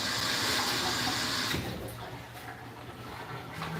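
A bowl is rinsed under a running kitchen tap: a loud rush of water for about a second and a half, then a softer trickle and splashing as the flow drops.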